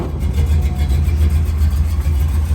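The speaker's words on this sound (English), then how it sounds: "Great running motor. It's got double hump heads. Awesome little 350." A 1972 Chevrolet C10 Cheyenne pickup with a 350 small-block V8 and double hump heads runs at a steady idle, a close, loud, even low rumble with a faint pulsing beat.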